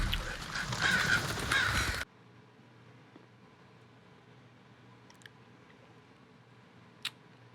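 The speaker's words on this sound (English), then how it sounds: "That the noise the birds are making?" Crows caw in a dense, loud burst over the opening two seconds of a scene from the film A Quiet Place Part II. Near-silence follows, broken only by two faint, brief chirps.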